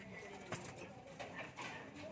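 Racing pigeons coo softly amid a busy, noisy background, with low murmuring voices mixed in.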